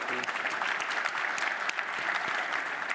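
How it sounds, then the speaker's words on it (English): Sustained applause from a keynote audience at the IAMPHENOM 2024 product innovation keynote, a dense, even wash of many hands clapping throughout with no break. "We'll clap for that."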